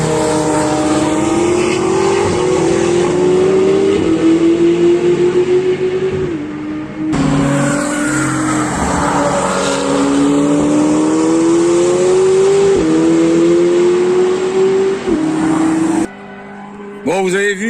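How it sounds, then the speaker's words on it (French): Cars race past at the Nürburgring in Germany, with loud engines revving and climbing in pitch in long passes, one after another. A brief cut of quieter track noise follows near the end. "Je vais attendre des bagnoles qui font un beau petit bruit"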